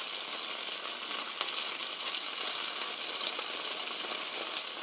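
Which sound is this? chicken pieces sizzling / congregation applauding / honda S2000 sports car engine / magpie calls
chicken pieces sizzling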